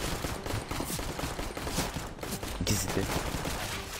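Rapid bursts of rifle gunfire from a competitive CS:GO match, loud and continuous with overlapping shots, while a player talks excitedly over the shooting.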